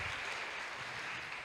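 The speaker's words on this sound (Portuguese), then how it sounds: "Vamos aplaudir ao Senhor só pelo texto," Church congregation applauding during a Portuguese-language sermon, a steady wash of many hands clapping at a distance, faint and even, with no talk over it.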